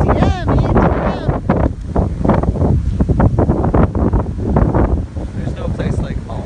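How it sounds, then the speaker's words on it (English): Heavy wind buffets the microphone in gusty, low rumbling bursts while a voice talks over it nearly the whole time, the blustering noise rising and falling without pause. "It's so windy out."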